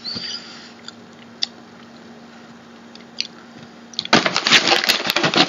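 Crunchy lemon cookie being bitten and chewed close to the microphone, a quiet low hum first, then a burst of loud crackling crunches near the end.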